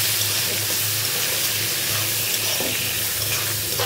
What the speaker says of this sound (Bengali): মাংসটা আমি ভেজে নেব।